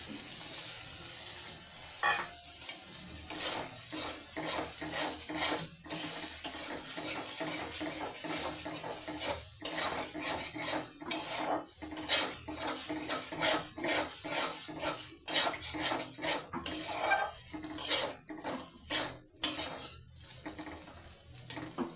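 Spice paste with cumin and shrimp fries in a pan, giving a steady sizzle. Frequent scraping and clinking of a spatula against the pan stir it, loud and close, with no speech.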